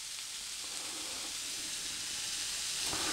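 Steady, dense sizzling from a pan of Bauerntopf ingredients frying without any fat, a continuous close hiss that swells slightly toward the end, with no talking.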